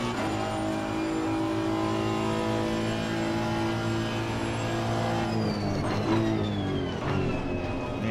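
A Honda NSX EVO GT3 race car in Assetto Corsa Competizione at Barcelona accelerates down the straight. The engine drones loud and steady with rising harmonics, and a quick shift comes near the end.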